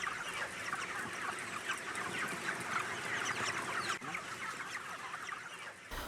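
Dense chorus of chickens clucking throughout a crowded poultry farm house, many birds overlapping in a steady, continuous din with no talking.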